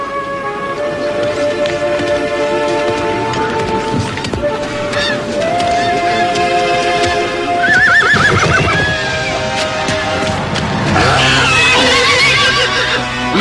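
Horses whinny and neigh several times, with hooves clopping and stamping nearby over a steady outdoor background.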